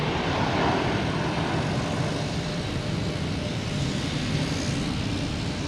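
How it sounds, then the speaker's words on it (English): An American Airlines airliner taking off at Boston's Logan Airport, a constant, loud, broad engine roar with a low rumble holding steady throughout and no voices. "American taking off"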